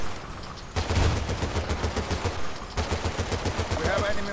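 Rapid bursts of video game gunfire in a battlefield setting with vehicles and anti-tank mines, loud repeated automatic shots after a brief quiet start, with a short pause midway before firing resumes.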